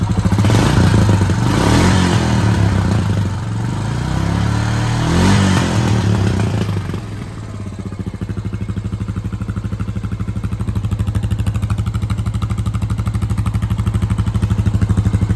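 A Honda Foreman ATV engine with a new OEM-style muffler revs loudly a couple of times from a hot start, then settles into a steady, rapid putter at idle, recorded close in a reverberant space.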